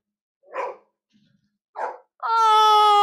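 A dog gives two short, separate barks close by, followed by a sustained high-pitched squeak from a homemade DIY pet toy; no one talks.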